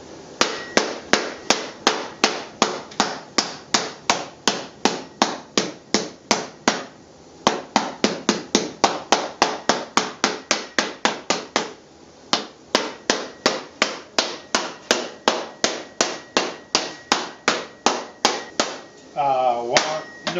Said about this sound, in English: These are nylon hammers.